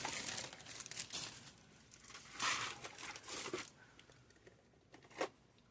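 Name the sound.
rummaging through a bunch of stickers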